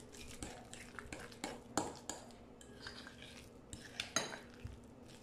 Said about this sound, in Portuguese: Agora a gente mistura.